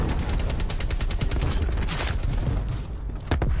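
AK-47 gunfire in Call of Duty Cold War multiplayer, a fast continuous string of close rifle shots that breaks off near the end, with a little background commotion.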